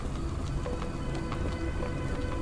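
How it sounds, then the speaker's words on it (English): Steady rain falls at the docks in the video game Sherlock Holmes: The Awakened, a dense continuous patter of drops with scattered louder splashes and no talking. "Man, it's raining a lot."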